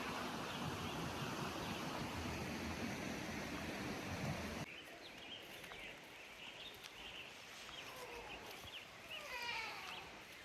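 A creek runs on a rural property in Nevada City, California, as a steady rushing wash that drops quieter partway through, with faint birdsong above it.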